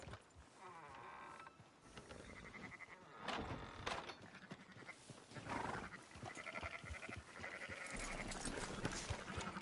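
Sheep in a video game bleat in a few short, wavering calls over a busy wash of game sounds and clatter, faint and buried in the mix.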